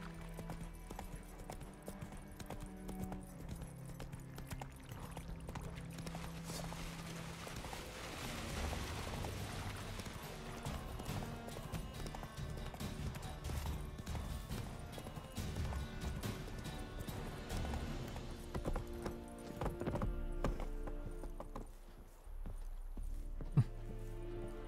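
In The Witcher 3: Wild Hunt, a horse's hooves clip-clop steadily at a walking pace for the whole stretch, with game music, a brief neigh and occasional clanks and mechanical rattles underneath.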